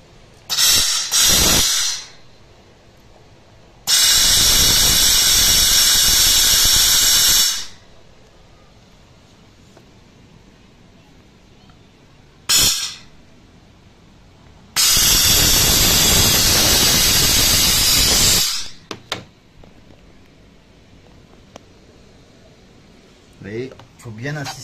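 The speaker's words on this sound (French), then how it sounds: "Il faut bien insister sur les endroits, pas aller trop vite pour que le traitement à vapeur sèche soit efficace." Dry steam cleaner treating bed bugs in a home, loud hissing bursts of steam lasting several seconds each, two long blasts and a few short ones separated by quiet pauses, with some speech in the gaps.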